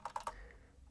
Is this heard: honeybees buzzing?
no